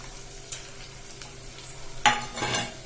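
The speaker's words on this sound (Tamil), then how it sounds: "சின்ன வெங்காயத்தை நல்லா வதக்கிக்கோங்க" Small shallots sautéing in a pan for cauliflower biryani, a low sizzle with a few spatula scrapes, then a louder burst of stirring and frying at the close.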